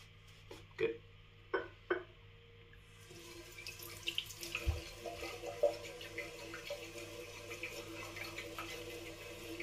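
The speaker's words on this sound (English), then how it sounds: "We'll wet the brush." A shaving brush is wetted under a running bathroom tap, a steady close hiss of flowing water with a few soft clunks and splashes at the start, no talk.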